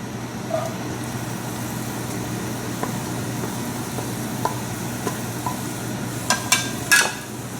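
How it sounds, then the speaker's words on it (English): Onions frying in olive oil in a pan for beans, a steady low sizzle with occasional clinks and stirring taps of a utensil against the pan near the end. "for the beans I need about a tablespoon of olive oil, and then we'll put the onions,"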